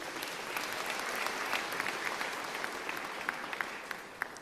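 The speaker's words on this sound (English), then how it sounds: "Can we give them a round of applause?" A full audience applauds at a South African matric Class of 2022 ceremony, steady dense clapping held at a moderate distance throughout with a few sharper individual claps standing out.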